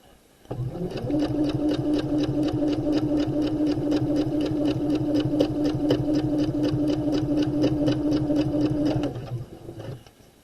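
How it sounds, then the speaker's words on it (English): A sewing machine stitches fabric close to the fold of a seam allowance, running steadily for about eight seconds with a fast, even mechanical chatter, close and clear, before stopping. "I'm going to plant the needle in close to the fold, and I'm going to sew close to the fold"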